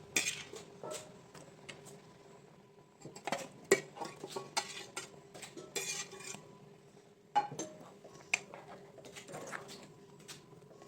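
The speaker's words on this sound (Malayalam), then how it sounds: "നന്നായി ഇളക്കി കൊടുത്തിട്ട് നമുക്കിതൊരു അടപ്പിട്ട് അടച്ചു വെക്കാം." Kera (tuna) fish curry being stirred in a cooking pot in a home kitchen: intermittent scraping and clinking of a utensil against the pot in irregular bursts, with quiet background ambience and faint birdsong.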